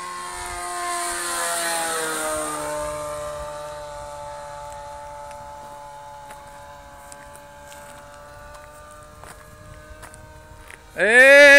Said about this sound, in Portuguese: Parece o motor KB rodando